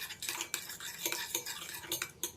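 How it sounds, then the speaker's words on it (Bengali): Spoon scraping and clinking against a bowl while yogurt is mixed with turmeric, salt and coriander powder, a run of quick rhythmic strokes, close and fairly quiet, no voices. "সব কিছুকে খুব ভালোভাবে মিশিয়ে নিতে হবে"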